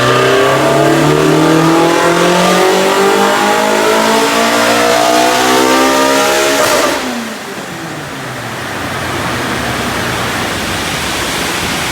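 A Toyota AE86 with a 4AGE/7AGE engine and pod filter revs hard on a dyno, the loud engine note climbing steadily in pitch before cutting off and dropping back to a rougher idle-like roar.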